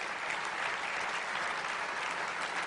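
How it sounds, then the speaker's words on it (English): Steady, dense applause from a large audience at a county government address, continuous and even in level throughout with no voices rising above it. "Please join me in giving them a round of applause"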